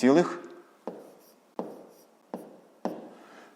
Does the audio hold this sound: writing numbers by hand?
yes